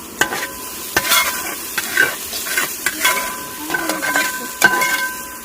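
Masala sizzles in hot oil for a wedding-style mutton kurma while a spoon stirs it, with loud scraping strokes at a steady rhythm over continuous frying hiss.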